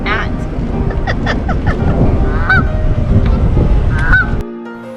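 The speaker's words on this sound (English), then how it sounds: "We have many places where Canadian geese gather during the winter time." Canada geese honk repeatedly in a noisy flock, overlapping calls close by over a rumbling, windy background.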